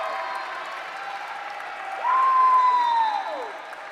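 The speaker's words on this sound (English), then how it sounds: "a big cheer going around the floor for the Bobcats as the home crowd starts to get into it" A home crowd at a college volleyball match cheers in a broad, distant roar that swells halfway through and stays up, with a whistle-like tone riding over the noise.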